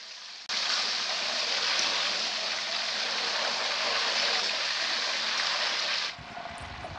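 Salt water poured into hot oil frying Kerala-style raw banana chips sets off a loud, sustained sizzle that starts abruptly, holds steady for several seconds, then cuts away.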